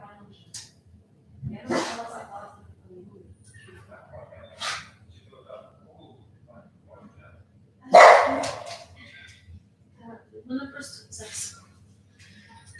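Several dogs bark and yip outdoors near the front line in Ukraine, scattered sharp barks at irregular intervals, one loud burst midway, with a faint low hum underneath and voices talking at times.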